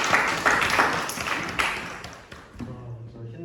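Scattered applause from a small crowd at an art exhibition opening, a handful of uneven claps that taper off, with faint voices in the background as the clapping fades.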